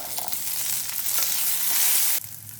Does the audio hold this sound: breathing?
no